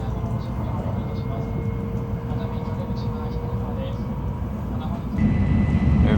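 A train in Japan picks up speed, and a continuous low rumble and rolling roar fill the carriage. The roar grows louder near the end as the train presses on, and a voice talks over it.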